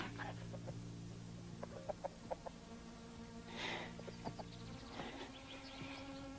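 A rooster crows and clucks on a farm in a horror film, fairly faint, over a steady low hum with buzzing insects and a few short knocks.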